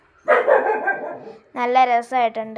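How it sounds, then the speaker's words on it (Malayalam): A dog barks nearby in a short burst of tonal, yelping calls that follow a stretch of talking and briefly overlap it. "ഇടയ്ക്ക് ഈ പട്ടി കടന്ന് കുരയ്ക്കുന്ന സൗണ്ട് കേൾക്കുന്നുണ്ട് കേട്ടോ."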